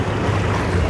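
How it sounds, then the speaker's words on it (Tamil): Brief burst of wind-buffeted rushing water and a low motor rumble from a passenger boat at sea in Italy, loud and close. "எஸ் எங்களுடைய படகு வந்து விட்டது இதில் தான் நாங்கள் போகிறோம்"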